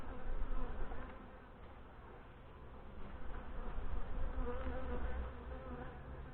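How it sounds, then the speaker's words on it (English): Honey bees in a queenless hive hum in a dense, continuous buzz close by, swelling and easing in loudness as the colony stirs, with no voices. "You can just hear them starting to buzz."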